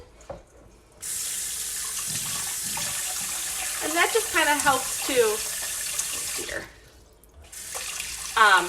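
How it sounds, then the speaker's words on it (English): Kitchen tap water runs into a tablespoon, a steady splashing gush that starts after a second, stops briefly near the end and resumes, while a person talks over it. "let me get my tablespoon and I'm going to add some water in there"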